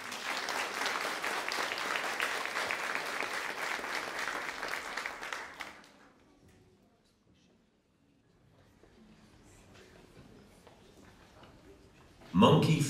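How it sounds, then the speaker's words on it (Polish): Applause from the audience at a music school's end-of-year concert, sustained and dense for about six seconds, then fading to quiet room murmur before a brief loud burst near the end. "Jeszcze raz wielkie brawa."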